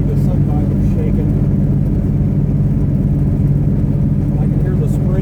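A 1980 Buick Regal with a bad tire cruises at 60 mph. Its cabin fills with a loud, steady, low road-and-engine rumble and a constant droning vibration.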